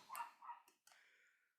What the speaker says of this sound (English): Sorry about the dog next door.